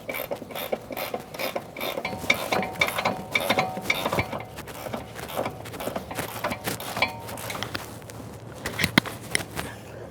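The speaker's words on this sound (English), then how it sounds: "Ratcheting wrench." A ratcheting wrench tightens an 18mm nut on a sway bar link of a 2013-2020 Ford Fusion, giving quick irregular ratchet clicks and mechanical clatter, close up, with no speech.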